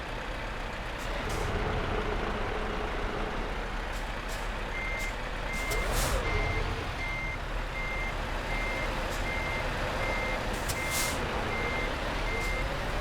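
A truck in Euro Truck Simulator 2 backs up to a trailer, its reversing alarm beeping in a steady, evenly spaced rhythm over a continuous engine rumble, with brief air-brake hisses.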